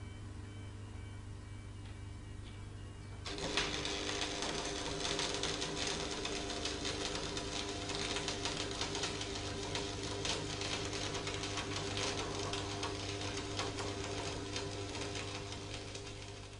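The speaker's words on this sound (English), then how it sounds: "leave it on the bench with the electrode at 45 degrees, otherwise weld it as before." Arc welding with a stick electrode held at 45 degrees on 6mm steel plate resting on a bench, a steady close crackling hiss that starts abruptly a few seconds in and runs continuously.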